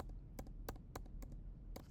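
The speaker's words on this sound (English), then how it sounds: "I'm gonna press G on my keyboard, and it works." Several sharp key presses on a computer keyboard used to trigger notes in a Max patch, spaced irregularly as distinct clicks over a low steady hum, close and moderately quiet with no talking.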